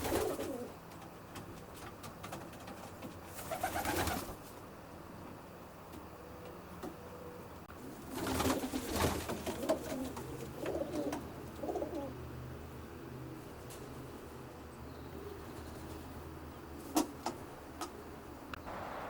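Pigeons coo softly inside a racing pigeon loft, low repeated calls spread across the scene with occasional louder bursts of wing flutter and movement, no talk.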